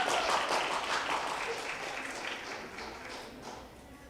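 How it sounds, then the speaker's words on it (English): An audience claps for students being promoted to 11th grade at a school graduation ceremony, a moderately distant, sustained round of applause that slowly fades. "Give them a round of applause."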